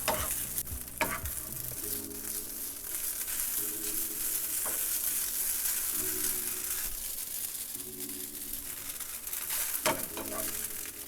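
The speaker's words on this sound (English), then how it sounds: "my noodles and my chilies have been stir frying for about a minute" Steady sizzling of noodles and chilies stir frying in a hot pan, with the occasional scrape of a utensil over a constant hiss.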